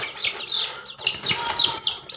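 Young frizzle chickens give a run of high, chirpy clucks in quick bursts, close and fairly loud, with a few short pauses between calls.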